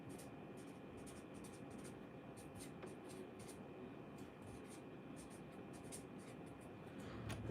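Names are written down by hand, making faint, quick scratching strokes in short bursts over a low, steady background hum.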